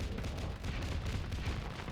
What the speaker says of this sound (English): Guessing he's using his auto cannon belt feeder to really get those bullets out